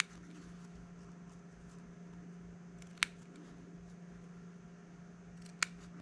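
Scissors snip twice through a sewn fabric seam allowance, two sharp isolated cuts about two and a half seconds apart, close and clear over a quiet steady room hum with no talking.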